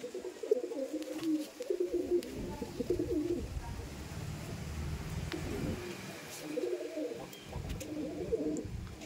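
Madrasi pigeons coo in low, repeated rolling murmurs, several birds close by and fairly loud, with a few brief higher chirps over the steady cooing.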